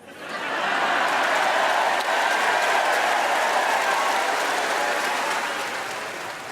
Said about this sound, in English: a lot of people clapped that